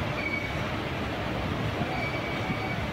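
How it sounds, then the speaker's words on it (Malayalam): Inside a tunnel past Nemom, a Nagercoil Junction express special rumbles along, a dense, steady roar of wheels and carriages with faint squealing tones, close and continuous throughout. "നമ്മുടെ നാഗർകോവിൽ ജംഗ്ഷൻ എക്സ്പ്രസ് സ്പെഷ്യലിൽ തിരുവനന്തപുരം കഴിഞ്ഞ് നേമവും കഴിഞ്ഞ് ഒരു തുരങ്കം കയറി യാത്ര തുടർന്നുകൊണ്ടിരിക്കുകയാണ്"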